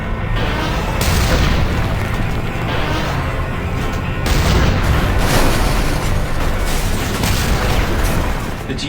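A GDF tank firing in a video game, with heavy booming blasts and a dense, loud rumbling roar that runs almost continuously.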